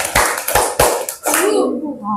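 Several sharp hand claps land in a quick rhythmic pattern, followed by a burst of children's voices chanting together nearby.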